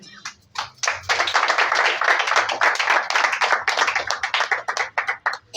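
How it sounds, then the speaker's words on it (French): A crowd claps in dense, steady applause that builds quickly, holds, then thins into scattered claps near the end. "je vous demande de l'applaudir"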